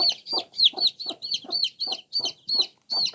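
Young chicks kept on chicken feed peep in a steady run of about a dozen bright, closely spaced calls, loud and near with soft clucking beneath.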